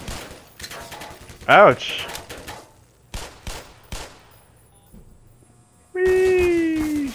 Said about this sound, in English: There is a sentry gun over there.